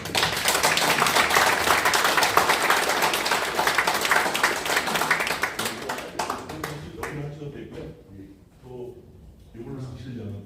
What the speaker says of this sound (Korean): 고영주 대표님 큰 박수로 맞이해주시기